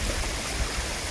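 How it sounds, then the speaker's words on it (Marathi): A babbling mountain stream in the hills of Malshej Ghat rushes steadily and close by, a dense, unbroken wash of flowing water with no voices over it. "खळखळ झऱ्याचं पाणी धुतला."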